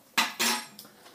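A metal teaspoon scrapes across shaving soap in a small cup, two quick raspy strokes followed by fainter scratches, close and quiet.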